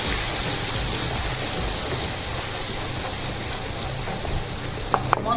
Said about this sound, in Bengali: তেল গরম হয়ে গেছে, প্রথমে আদা পেঁয়াজ রসুন টমেটোর পেস্টটা আমি দিয়ে দেব